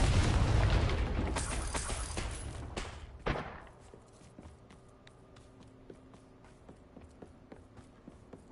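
Confringo explosive spell blast in the Hogwarts Legacy video game: a loud, roaring burst opens and rumbles for about three seconds, then a sharp crack as it cuts off, leaving faint ambient ticks and quiet clatter.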